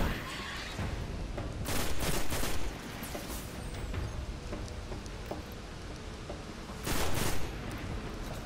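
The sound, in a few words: gunfire from a powerful gun in the video game Destiny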